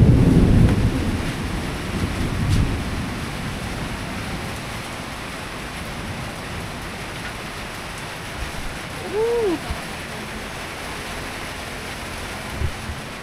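Thunder from a lightning storm opens with a deep, loud rumble that rolls and fades into a steady wash of rain and wind, with faint scattered noises afterward.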